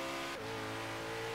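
Lamborghini engine in the racing game Forza Horizon 3, a steady droning car engine hum with a brief dip early on, then holding a constant tone with no talk.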